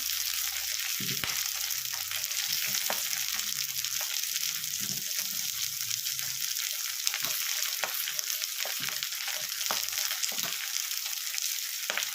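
Pumpkin pieces fry in mustard oil in a pan with a loud, continuous hiss and sizzle. Occasional stirring scrapes and soft clacks sound close up, and there is no speech.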